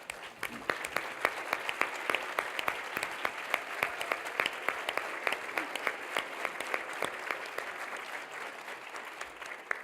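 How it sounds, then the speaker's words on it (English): Applause at the 2018 Grady Salutes alumni awards ceremony for past award recipients standing, a sustained crowd of clapping with sharp, close individual claps popping out above the mass. "Will all past Grady Alumni Award recipients who are with us tonight this evening please stand for your applause?"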